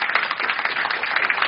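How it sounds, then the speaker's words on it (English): A short burst of applause from an audience at a crowdfunding presentation evening, a dense patter of many hands clapping close and steady for about a second and a half. "please give a round of applause to all the presenters out there"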